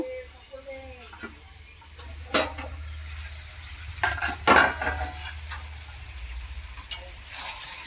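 A spoon clinks and scrapes against a pan while mete alu (yam) curry is stirred, with a few sharp metallic knocks over a low sizzle, up close.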